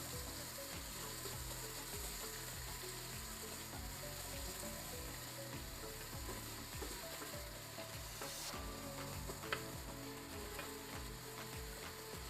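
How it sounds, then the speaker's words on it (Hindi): Finely chopped onion fries in a pan for Arabic lamb mandi, a steady dense sizzle with a repeating mechanical ticking rhythm running underneath the whole time. "और अब मैंने ये जो एक प्याज है वो मैंने लेके इसको बारीक चॉप किया हुआ है, वो डालूँगी इसके अंदर। इसको मैंने थोड़ी देर भुनाई करनी है।"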